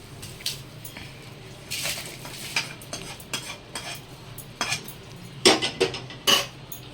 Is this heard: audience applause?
no